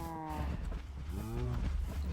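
Cow mooing in the Minecraft video game, two drawn-out, slightly rising moos one after the other, loud and close, with no other sounds over them.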